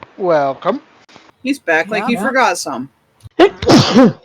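A sneeze bursts out near the end, after a stretch of lively talk among players at a dice-rolling tabletop game session, with voices filling most of the moment.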